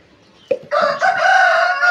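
A backyard hen house holds a rooster that crows loudly and close by, one long drawn-out call after a brief sharp cluck, with no voices over it.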